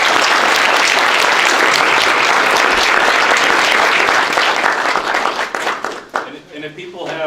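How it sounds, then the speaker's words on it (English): An audience claps for Dr. Paul Jenkins after a faculty talk on starting a lab, dense sustained applause for about six seconds before it thins out and a voice begins speaking. "If we can give him a round of applause."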